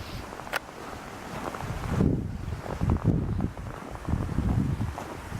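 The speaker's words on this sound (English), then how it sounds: "It's blowing a good wind." Strong freezing wind gusts outdoors in deep snow beside buildings, a steady low rumbling buffet on the microphone with swelling gusts throughout, loud and close, with no voices.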